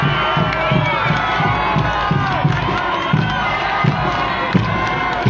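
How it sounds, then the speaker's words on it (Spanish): A large outdoor crowd at a political rally in Oruro, Bolivia, cheers and shouts continuously, a dense loud roar of many voices with scattered thumps and rhythmic bursts. "ahí está la gente que lo quiere y lo aclama."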